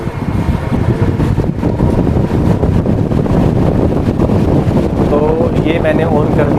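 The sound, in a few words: air cooler fan running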